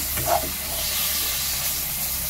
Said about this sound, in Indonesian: Kita masukkan daging tadi. Nah, ini kita aduk dulu